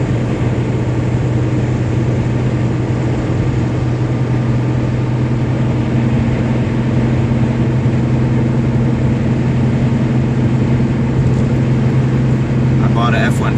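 A 1993 Ford Ranger's V6 engine drones steadily at highway speed, a low constant hum with road noise from inside the cab, with a voice talking over it.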